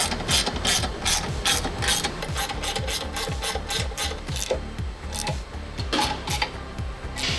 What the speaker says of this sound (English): Tighten down our bolts here.